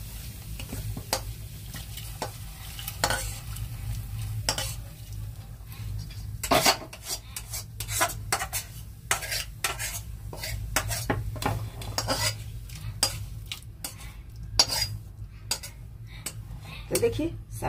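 Fried dal is tipped into a pot of mixed-vegetable khichdi and stirred with a spoon, giving repeated sharp metallic scrapes and clinks over a low constant sizzle, close up.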